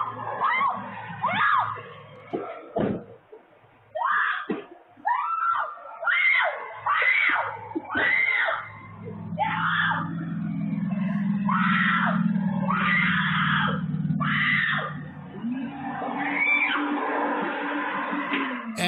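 A woman screams repeatedly during an attempted kidnapping as she is shoved toward a stolen late-model Toyota Tacoma pickup, loud shrill bursts in an irregular series, with a lower rumbling noise beneath the later screams.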